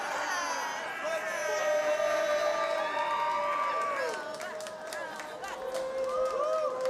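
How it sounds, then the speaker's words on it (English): An excited crowd at a robot fighting championship final roars with cheers, whoops and shouts, loud and sustained, with scattered individual yells rising above the din. "That is an excited crowd"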